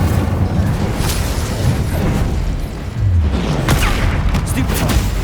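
In the video game Hogwarts Legacy, an Incendio fire spell is cast amid busy spell combat. Dense bursts, whooshes and booming impacts overlap continuously, with voices heard over the action.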